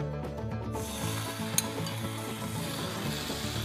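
Water sizzles and spits in a hot frying pan holding soufflé pancakes, a steady close crackling hiss with soft stirring scrapes and a brief sharp tick, no voices.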